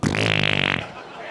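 A short, loud, buzzing fart lasting under a second, rasping and fluttering, then cutting off into quiet room noise.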